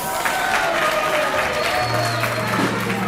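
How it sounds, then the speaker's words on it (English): A crowd at a teaching and learning festival applauds, steady clapping filling the whole stretch at a moderate distance, with a brief tone sounding partway through. "Ooh, round of applause."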